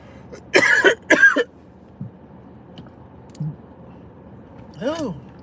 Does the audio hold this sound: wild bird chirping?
no